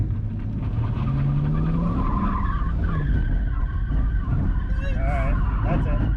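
A 2012 Camaro SS held at full throttle with its tires spinning, a loud continuous roar and screech of rubber sustained throughout, with shouting voices over it.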